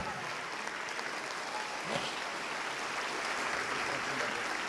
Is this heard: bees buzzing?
no